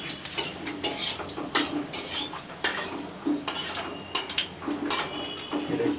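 Cumin seeds crackle and splutter in hot oil in a pan while being stirred, with scattered sharp pops and scraping clinks of a utensil against the pan, close and fairly steady throughout.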